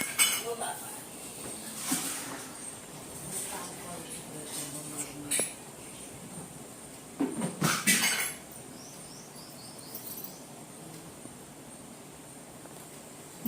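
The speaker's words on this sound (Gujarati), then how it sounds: "મમ્મી ખાલી કરે છે વાસણ." Steel utensils and dishes clink and clatter as a mother empties them in a home kitchen, with scattered bursts of metallic knocks and a louder cluster midway over a quiet background.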